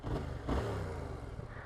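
A motorcycle with a standard exhaust revs up close by, its engine rising and holding in a rough, throaty roar for a moment before easing slightly, with wind buffeting the microphone.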